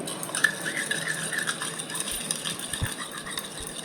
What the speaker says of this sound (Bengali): এটা গুলে নেব জল দিয়ে ভালো করে যাতে দানা না থাকে